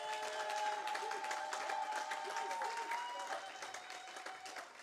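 Congregation in a church applauding and acclaiming Jesus Christ, sustained clapping and crowd noise throughout, with an organ or keyboard chord held beneath the applause.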